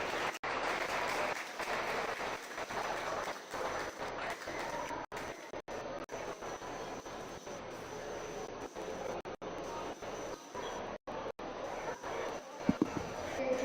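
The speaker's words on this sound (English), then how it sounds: "And let's give them a round of applause." Crowd applause at a dairy cattle show after the junior champion heifers are named, steady and dense clapping in an arena, with brief gaps and a voice over it near the end.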